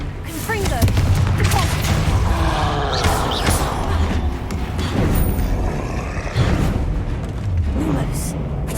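A Confringo fire-blast spell goes off in Hogwarts Legacy with heavy booming blasts and rumbling impacts, loud and up close among dense game sounds. A voice can be heard in places.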